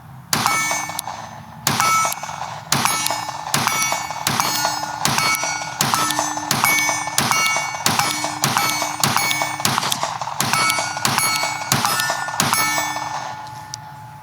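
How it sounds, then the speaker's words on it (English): Rifle shots ring out at a steady pace on a range, each followed by the bright metallic clang of a steel target hit, roughly a dozen evenly spaced shot-and-ding pairs with a budget red-dot optic mounted. "these are the first shots through the OSIGHT SE"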